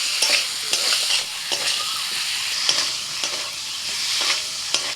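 Ginger and green chilli paste with Kashmiri chilli powder sizzle steadily in a pan of hot oil, with the scrape and clack of a spatula stirring at irregular intervals over the continuous frying hiss.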